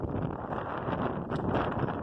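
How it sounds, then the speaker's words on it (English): Steady, broadband wind buffeting a microphone up in the hills, a constant rushing roar with slight gusts, no voices. "Man, it's windy today."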